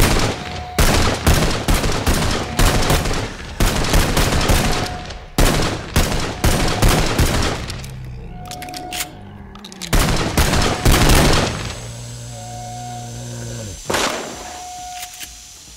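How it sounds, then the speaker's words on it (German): Rapid bursts of weapon fire in the VR game Contagion VR crack out loudly in clustered volleys, with short pauses between strings of shots and a few brief tonal beeps underneath. "Die Waffe klingt ja gar nicht so cool"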